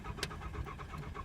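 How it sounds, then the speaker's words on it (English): A Nissan Pulsar NX engine catches on a cold start after long sitting, settling into a rough, steady idle close by with a brief sharp click near the start. "there she goes, just like that. Good old Nissan."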